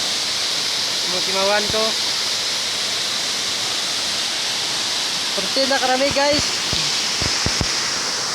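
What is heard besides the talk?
stream flowing water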